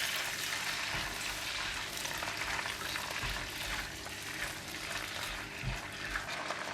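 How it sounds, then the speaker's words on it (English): Garlic, carrot and tofu skin are stir-fried in a pan, giving a steady soft sizzle with occasional low knocks of the utensil, continuous and fairly quiet throughout. "I'm going to stir fry it for a bit until it's released a nice fragrance."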